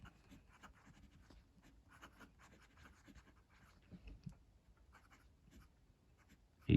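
Steel-nib fountain pen scratching across paper in short strokes, a faint steady writing texture with little pauses, close and quiet, ending in a brief louder knock.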